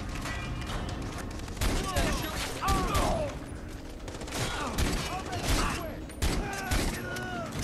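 Video game gunfire and gear clatter in Far Cry 3, with rapid bursts of shots, metallic mechanical clicks and a booming hit, dense and continuous, with a player's voice talking over parts of it.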